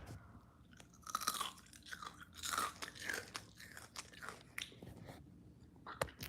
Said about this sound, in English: That we can hear the crunch.